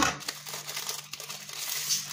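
A store-bought shortcrust pastry package, plastic wrap around a rolled sheet of pâte brisée, crinkles and rustles up close as it is opened by hand, in a steady stream of soft crackling with brief louder crumples.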